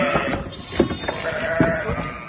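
An escaped ewe bleats on a farm, two or three loud, wavering calls close by over steady outdoor background noise, with no talking.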